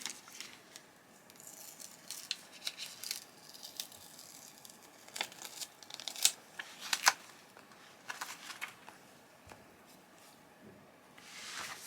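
Backing sheets are peeled off heat transfer vinyl pressed onto felt key rings. Close, faint crinkling and tearing rustles come in several bursts, with short pauses between.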